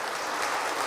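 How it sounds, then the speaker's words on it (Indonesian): A brief wash of audience applause, a dense patter of many hands clapping, moderately loud with no voices. "Boleh diberi tepuk tangan Bapak Ibu untuk di atas 8 ini."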